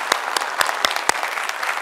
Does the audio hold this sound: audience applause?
yes